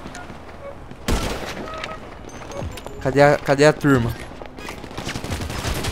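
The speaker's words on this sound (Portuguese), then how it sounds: "São só 10 tiros." Gunfire from the first-person mode of GTA V Online on PC, a sharp single report followed by a quick burst of rapid shots, with a player talking over the game.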